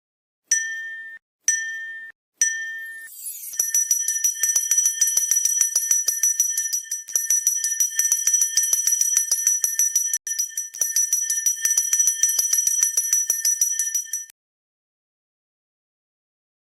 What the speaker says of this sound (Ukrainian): Перший шкільний дзвоник.